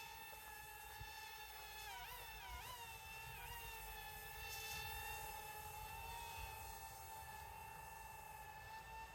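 A Rage RC Aeroboard flying skateboard drone hovers with a steady, high-pitched electric whine from its rotors, rising and wavering briefly before settling into a constant drone.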